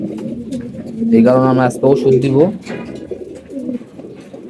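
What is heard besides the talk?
pigeon cooing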